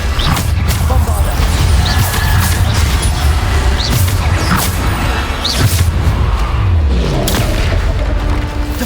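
Repeated heavy blasts from the Bombarda spell in Hogwarts Legacy, a dense, loud battle din of booming impacts and whooshes running continuously with no pause.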